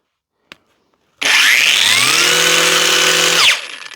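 A Parkside PWSAP 20-Li G7 cordless angle grinder on a fully charged 8 Ah battery cuts through an offcut: a small click, then a loud sustained high whine for about two seconds before spinning down, with no talk.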